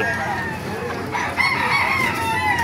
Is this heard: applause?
no